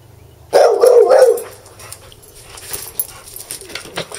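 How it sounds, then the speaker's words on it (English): A circus-trained dog gives a loud, close bark that stretches into a drawn-out yelping whine, followed by quieter snuffles and small rustles at an outdoor farmers market. "Circus trained dog."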